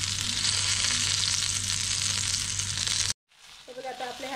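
Drumstick pods fry in a pan with a dense, even sizzle for about three seconds, then a sudden cut to near silence followed by faint clicks and low sounds.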